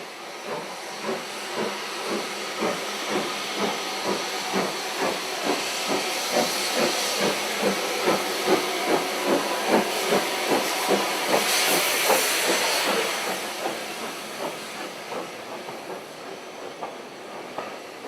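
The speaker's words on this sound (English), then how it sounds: "the K1 is hard at work on the long climb to Goathland" An LNER K1 steam locomotive works hard on a heritage railway's long climb to Goathland, its loud rhythmic chuffing beating steadily over a constant hiss of steam, close by and with no voices.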